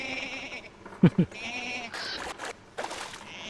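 Goats bleating in the survival video game Don't Starve, two short close bleats in quick succession amid other game sounds and rustling effects.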